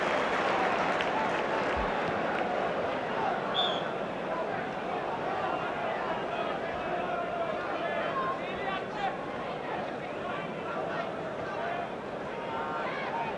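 A football match crowd applauds and murmurs after a player's hard run, a broad, steady, distant wash of clapping and chatter under a commentator's voice.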